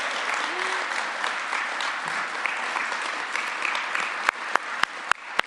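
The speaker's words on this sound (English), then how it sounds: "we should definitely clap here today for this investment" An audience at an Olds College event claps steadily in a dense wash of applause, with a voice speaking briefly under it and a few sharp, close claps standing out near the end.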